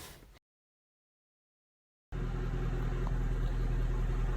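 A Mercedes C63 AMG V8, just repaired after hydrolocking, runs at a steady idle-like drone after a brief sound and a short silence, close and continuous.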